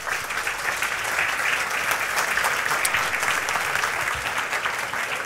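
A church congregation applauds steadily at a Spanish-language Christian service, a dense, even wash of clapping from many hands that holds at full strength throughout without any voices on top.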